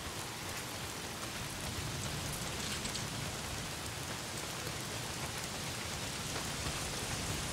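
Heavy rain pours down steadily in the video game Days Gone, a dense continuous hiss of drops hitting surfaces with no break, loud and enveloping throughout.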